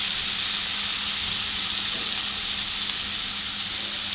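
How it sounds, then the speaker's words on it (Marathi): Chopped spinach lands in a hot pan with turmeric over a lowered gas flame, giving a loud, even, unbroken sizzling hiss throughout. "हा पालक जो मी चिरून घेतला आहे तो ह्यात घालणार आहे।"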